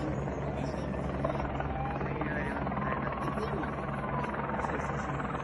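A helicopter's steady rotor thrum and engine drone fill the air continuously over a forest fire in Valldoreix, with people talking underneath the noise.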